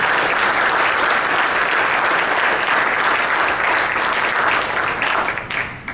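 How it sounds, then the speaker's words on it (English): An audience at a 2012 reunion gathering applauds Ken Keller with loud, sustained, dense clapping that tapers off in the last second. "we want to give him another round of applause"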